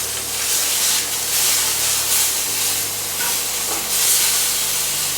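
Duck breast searing in a hot pan while its sides are turned with tongs to caramelise, giving a loud continuous sizzle and hiss that swells and eases with each shift of the meat.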